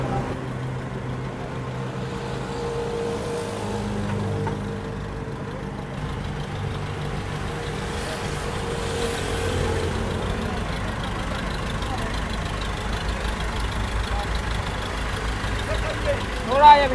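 A locally made 100 horsepower tractor engine runs at a steady idle, a low continuous rumble that persists beneath ongoing voices, with a short louder bump right at the end.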